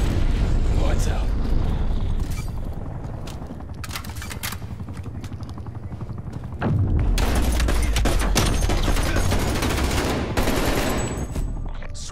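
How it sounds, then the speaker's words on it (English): Grenade blast in Call of Duty: Black Ops Cold War multiplayer, a heavy boom landing amid near-constant gunfire, with voices talking over the noisy battle. "Throwing grenade."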